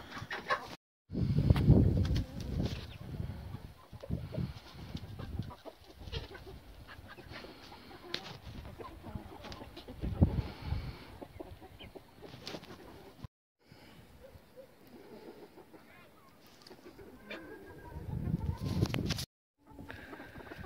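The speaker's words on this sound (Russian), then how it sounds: "То есть курочки или петушки." Chickens cluck and squawk throughout, with hens and roosters calling intermittently near and far amid rustling farmyard sounds, from a farm yard that also keeps goats.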